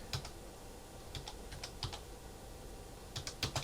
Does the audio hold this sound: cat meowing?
no